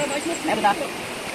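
Water runs steadily in a shallow creek as a broad, even wash that holds through the whole stretch, with children's voices chattering close by over the flow.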